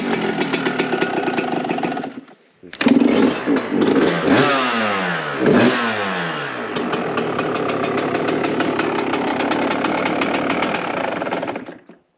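A 2005 two-stroke motorcycle engine runs loud and close, cuts out briefly, then revs up in rising and falling bursts before settling back to a steady, buzzy idle that continues until it shuts off.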